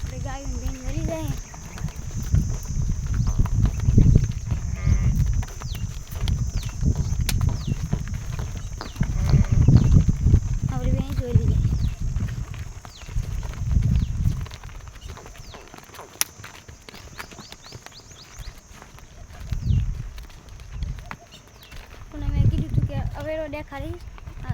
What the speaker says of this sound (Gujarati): આપણે ગાયું ભેંસ વળી જાય.